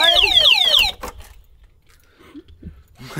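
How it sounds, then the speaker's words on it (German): A scooter's alarm system goes off in a quick run of rising electronic chirps and warbles, loud and close for about a second, then cuts out, leaving faint scattered background sounds. "Das war Alarmanlage angemacht."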